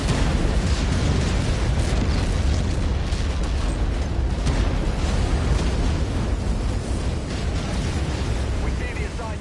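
Airstrike explosions in the MechWarrior 5: Mercenaries video game, a dense continuous rumble of booms and bursts that stays loud and heavy for the whole stretch, with no clear gaps between blasts.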